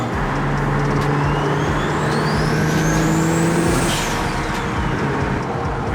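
Built BMW 335i with an N54 engine driving on the road, loud continuous drivetrain drone and rumble with steady low tones and a rising then falling high whine, close and heavy with vibration, no talk.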